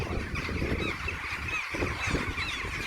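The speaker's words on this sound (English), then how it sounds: "A bird invasion like nothing I've ever seen before. The field was packed, and when the flock took off," A large flock of birds, likely geese, lifting off a packed farm field: a dense, continuous mass of honking calls and wingbeat rumble, loud and close, with no voices.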